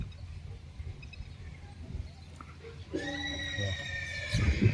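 A mare neighing, a rising, shrill whinny that comes in partway through over quiet outdoor background noise, followed by low thuds and rustling near the end.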